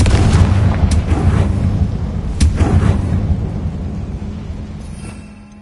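Spell explosions from Hogwarts Legacy boom loudly in quick succession, heavy blasts with a deep rumble that keeps rolling and then slowly fades out.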